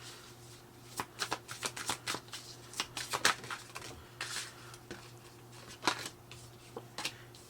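Tarot cards are shuffled and picked close up, a quiet series of soft, rapid flicks and riffles in uneven clusters over a low steady hum.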